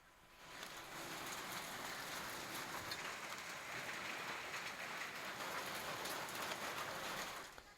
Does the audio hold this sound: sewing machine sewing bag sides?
no